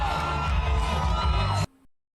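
Crowd at a fight night cheers and shouts in a loud, dense roar of voices that cuts off abruptly after under two seconds.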